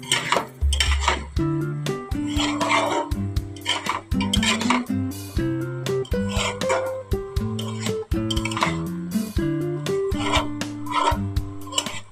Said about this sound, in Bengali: একসাথে একটু নাড়াচাড়া করে নিয়ে এবার দিয়ে দেবো জল